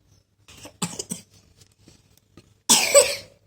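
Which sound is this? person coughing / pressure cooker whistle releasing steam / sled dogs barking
person coughing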